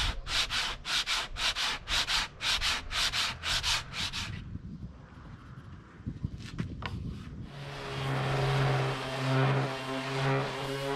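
A long sanding block is rubbed by hand along the edge of a plywood skiff in a quick run of rhythmic back-and-forth strokes, close and loud, followed by quieter scraping and a steady mechanical hum.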